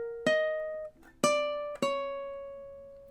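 Three plucked ukulele notes from measure 19 of a Star Wars melody, each a clean attack ringing out and decaying, the second and third close together, played alone and fairly quiet.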